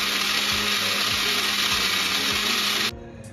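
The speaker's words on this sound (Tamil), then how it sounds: "இப்போ ஒரு ஜாரில் அரிசியை போட்டு நல்லா பேஸ்ட் மாதிரி அரைக்கணும்." A mixer grinder whirs loudly at a steady high pitch for about three seconds while grinding soaked rice to a paste, then cuts off abruptly, leaving quiet room noise.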